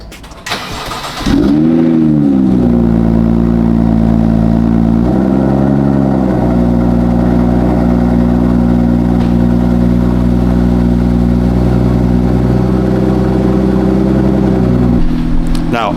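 A stock BMW F87 M2 with the N55 engine cranks and fires up, its revs swelling then settling into a loud, steady idle close by, with a brief dip and a final rise near the end.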